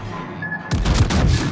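A World of Warships naval gun salvo from the Sun Yat-sen firing three shells: a sudden loud, booming blast after a short near-silence, with a heavy rumbling tail that continues to the end.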